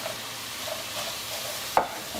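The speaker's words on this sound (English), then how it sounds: "And you're simply going to stir the bumbu into the tempeh." Bumbu spice paste is stirred into frying tempeh with coriander and dissolved sugar, a low, even sizzle under soft stirring strokes and one sharp scrape of the utensil near the end.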